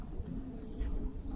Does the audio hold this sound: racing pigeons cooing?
yes